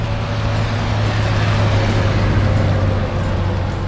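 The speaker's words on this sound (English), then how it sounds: "I'm competing with some traffic noise here on the highway" Steady roar of highway traffic beside a farm in Olathe, Colorado, a continuous loud rumble with a low engine hum running the whole time, no passing peaks standing out.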